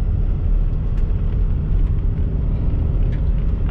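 A car flying down a dirt road, with a loud, steady low engine and road rumble throughout and faint rattles and clicks on top, heard from inside the vehicle.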